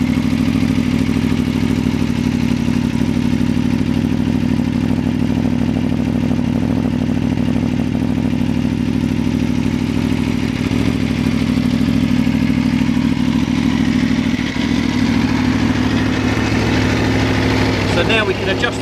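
A 1000 cc V4 motorcycle engine idles steadily through an aftermarket exhaust with a deep, lumpy throb and mechanical clatter, loud and close, running continuously throughout.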